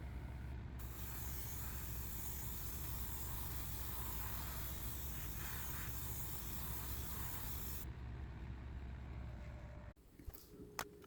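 Long continuous hiss of primer sprayed from an aerosol can onto a resin X-Wing fuselage part, steady and close for about seven seconds, then cutting off to quiet handling sounds.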